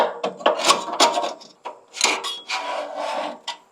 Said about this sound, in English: I'm going to use my paint scraper to clean the inside, get all this crud off the edges